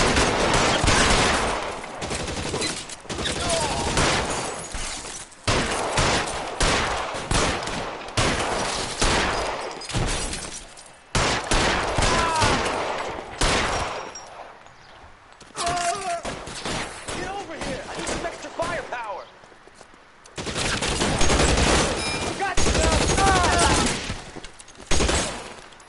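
Gunfire in a police shootout in the video game L.A. Noire, with repeated bursts of shots and rapid volleys coming in clusters between brief lulls, loud and close, with voices talking in between.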